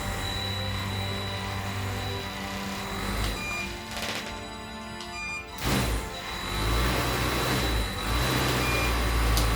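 An electric motor spins a lit torch and speeds up, giving a steady mechanical whir and hum with a brief surge in the middle, fairly close and continuous, with no one talking.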